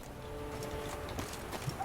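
Horse hooves clop steadily on the ground at a walking pace in the video game The Witcher 3, mixed with low ambient rumble.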